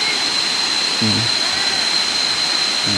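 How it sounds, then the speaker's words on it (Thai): Large Si Po waterfall in Narathiwat roaring as a steady broadband rush throughout, with a brief burst of voice sounds near the start and end. "ถึงแล้วครับน้ำตก โอ้น้ำตกใหญ่ครับใหญ่"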